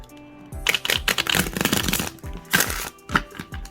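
Tarot cards being shuffled by hand, a rapid papery riffle and several crisp card slaps and taps in quick bursts, close and loud with no talking.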